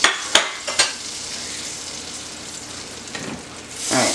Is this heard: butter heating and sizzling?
yes